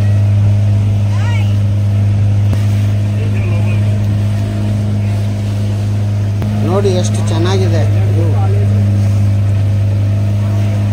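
A motorboat cruises along the Godavari river, its engine a steady low drone that holds throughout while people chat over it.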